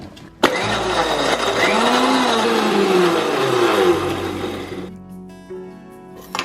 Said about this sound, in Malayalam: ഇത് പൊടിക്കാനായിട്ട് നമുക്ക് ഓരോ ബിസ്ക്കറ്റും ഇതുപോലെ മിക്സിയുടെ ജാറിലേക്ക് ഇട്ട് കൊടുക്കാം.